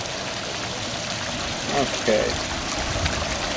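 Steady running water rushes through a Keene 160 dry and wet gold washer outdoors, a constant broadband stream-like hiss, with a brief spoken word from a person partway through.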